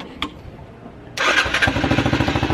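A pit bike engine starts up at about one second and settles into a loud, close, steady idle with a rapid, even putter.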